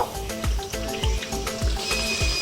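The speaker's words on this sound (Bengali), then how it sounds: "কড়াইতে তেল দিচ্ছি, তেল গরম হয়ে গেছে। এবার এটা আমি আস্তে আস্তে ছেড়ে দেব।" Chicken mughlai slid slowly into moderately hot oil in a kadai, sizzling steadily and close by, with rhythmic low thumps and scrapes along the way.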